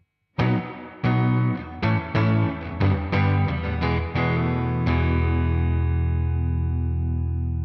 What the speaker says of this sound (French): si je le mets au minimum, la reverb sera vraiment au même niveau que le son de ma guitare